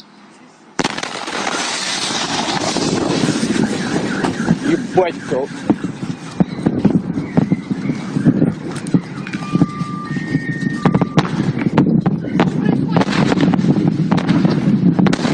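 The shock wave of the February 15, 2013 meteor explosion over Russia: a sudden loud boom breaks out, followed by a long, rolling rumble with rattles and crackles, while people talk anxiously over it.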